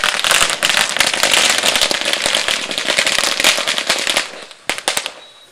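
Firecrackers set off at a village sports match, a loud, dense run of rapid cracks and pops that bursts on for about four seconds, then thins to a few last isolated bangs before fading.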